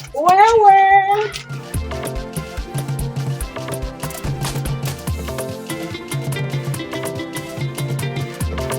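A cat gives one long, clear meow, then music with a steady beat takes over for the rest of the scene in a Swahili-language film.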